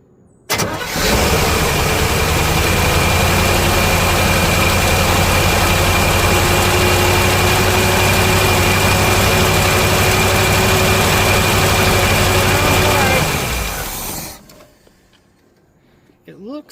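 A 1977 Camaro V8, bought cheap with a 3-speed manual, cranks and runs loudly and up close for about twelve seconds, a steady harsh drone with a rattly texture that cuts off abruptly. Voices may be mixed in.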